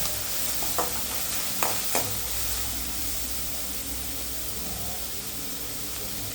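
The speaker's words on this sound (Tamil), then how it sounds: "இப்போ வந்து வெங்காயம் நல்லா வதங்கிட்டு" Chopped onions sauté in a pan for a leftover chapati dish, giving a steady, hissing sizzle with a few sharp stirring scrapes early on and no talking.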